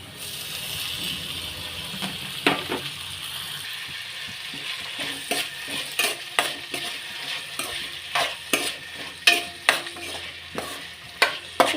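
Onion and tomato frying in a pan: a soft sizzle runs underneath sharp, irregular scraping and clicking strokes of a spatula stirring against the metal, close and moderately loud.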